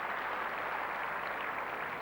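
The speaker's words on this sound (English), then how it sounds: "Good applause for a good match" Tennis crowd at a 1987 Sydney women's match applauds at match point, a steady, even wash of many hands clapping at moderate distance without pause.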